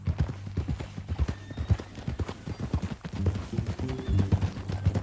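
Horse hooves clip-clop in Red Dead Redemption 2, a steady rhythmic run of close hoofbeats that carries on throughout under a low ambient rumble.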